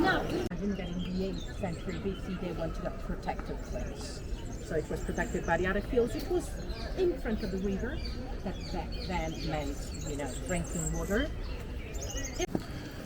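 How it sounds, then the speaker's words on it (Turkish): Birds chirp and sing outdoors on a hilltop in Rome alongside insect buzzing, with people talking through much of the scene. "Çiçek, böcek, kuş sesleri."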